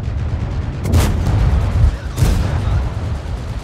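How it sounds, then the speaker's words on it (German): Katyusha rocket artillery in World of Tanks: two sharp, close launch blasts about a second apart, followed by a low rumbling roar that carries on throughout. "Wahrscheinlich schießen jetzt eh die beiden Katyushas auf uns"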